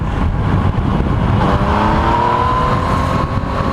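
A motorcycle filtering between lanes in traffic gets a burst of throttle, its loud engine note rising in pitch as it accelerates close by.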